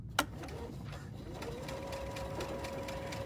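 A sewing machine fitted with an edge joining foot stitches steadily, its quick even mechanical ticking running continuously at close range and fairly quietly after a brief click at the start.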